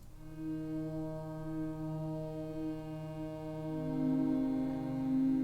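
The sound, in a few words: Diva soft synth pad preset playing on its own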